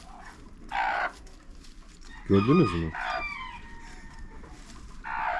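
A broody hen gives a short run of low, throaty clucks near the middle, close by, between stretches of someone talking in a farm setting.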